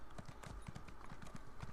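Hooves from a cow mount in The Elder Scrolls Online Morrowind clip-clop along at a steady trotting rhythm, close and continuous, over a dense wash of background game ambience.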